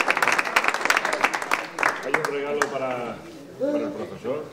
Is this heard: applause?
yes